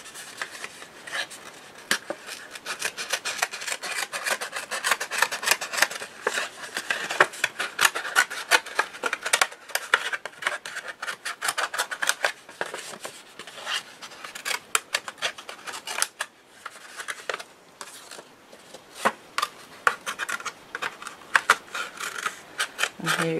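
Scissors cut through paper for a double envelope mini album cover, a close, continuous run of crisp snipping and rustling for over twenty seconds with brief pauses.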